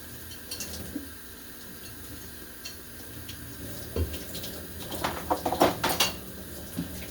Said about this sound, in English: I'm just gonna wash this plate while I'm here.